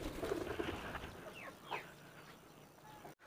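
Pigeons received as a gift flutter and shuffle close by, with a few soft coos and wing rustles in an otherwise quiet room before a brief cutoff.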